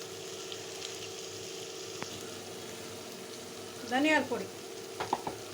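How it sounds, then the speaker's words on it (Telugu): Bitter gourd cooking in a pan for a tamarind curry, with a low steady sizzle and a few clattering stirs of a spoon around four seconds, then light taps near the end. A few brief spoken words sit in the background. "మధ్య మధ్య కదుపుతూ ఉండాలండి. అడుగు అంటకుండా."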